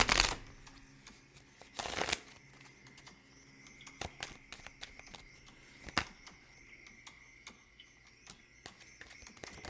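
Playing cards are shuffled in quick bursts of riffling and snapping, crisp and close in an otherwise quiet room.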